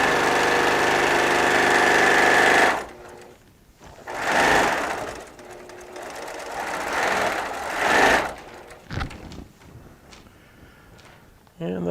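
A domestic sewing machine runs in bursts, stitching quilt pieces together: a loud steady whir for a few seconds, then shorter runs with pauses and small handling sounds in between.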